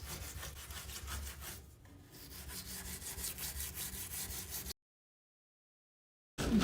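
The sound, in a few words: scrubbing jetted tub jets with cleaning paste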